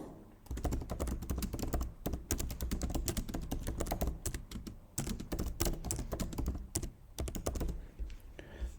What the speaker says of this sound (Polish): Ja tutaj wpiszę po prostu jakieś tam hasło.